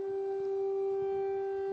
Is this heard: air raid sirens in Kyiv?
yes